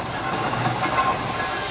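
A compound steam engine at a steam and country fair gives off a steady broad hiss that stays level throughout, with no voices heard.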